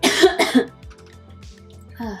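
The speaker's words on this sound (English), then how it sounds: "This like inhaled the color for my hair, so I'm like coughing." Two sharp, loud coughs close to the microphone in quick succession, followed by quiet rustling and a faint voice starting at the end.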